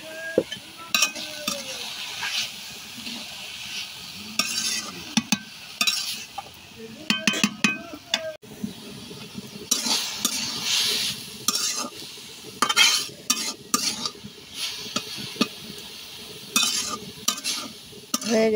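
Khesari greens being stir-fried in a pan as a shak bhaji, with a spatula scraping and clinking against the metal in irregular bursts over a soft sizzle. A voice is heard briefly.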